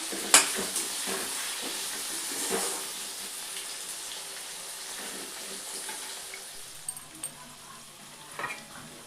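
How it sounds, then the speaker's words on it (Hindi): Water chestnuts (singhara) fry in hot oil in a home kitchen, giving a steady, close sizzling hiss throughout with a few soft clinks of a utensil, and no talking. "सिंघाड़े फ्राई हो रहे हैं।"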